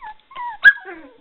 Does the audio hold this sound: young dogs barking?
yes